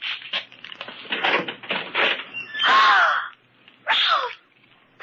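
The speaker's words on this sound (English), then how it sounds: "Open that closet door." Creaky closet door in an audio drama swinging open, a close, drawn-out wooden squeal followed by a second shorter creak, after some rustling and movement.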